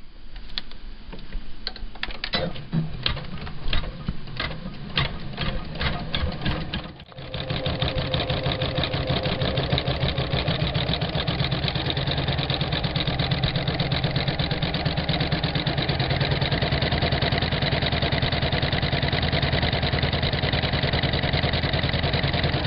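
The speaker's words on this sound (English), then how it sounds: "We've got our hoop back in the machine, and we're ready to embroider color stop number 2." An embroidery machine sews color stop 2 of a felting design, stitching in a fast, even mechanical rhythm that runs close and loud without a break, with no voices.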